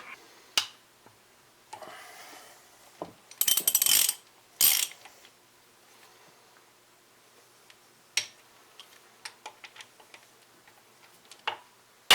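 Torque wrench clicking and ratcheting while bolts are tightened on a Brookes 318 Magnum V8 engine being assembled, with scattered sharp ticks and a few louder bursts of rapid ratcheting, close by and with no talk.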